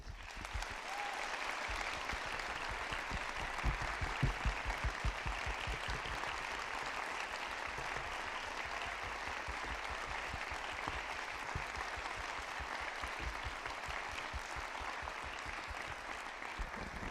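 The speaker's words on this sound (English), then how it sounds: "they deserve every bit of applause that you're going to give them right now" A concert audience at a spring showcase applauds graduating seniors, with dense, even clapping from many hands held steadily for well over fifteen seconds, heard from a distance and moderately quiet.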